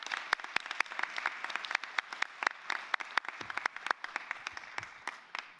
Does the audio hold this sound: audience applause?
yes